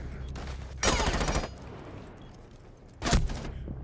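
Two short bursts of automatic gunfire in Rainbow Six Siege, the first about half a second long and the second briefer, loud and close with a quieter lull between them.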